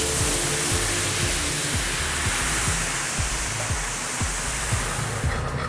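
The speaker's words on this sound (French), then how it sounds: "on va vider notre petit liquide d'oignon qu'on a fait pour déglacer notre poêle" Onion liquid poured into a hot pan to deglaze it while making veal stock, a steady loud hiss and sizzle of spray filling the whole stretch, with faint low thumps beneath.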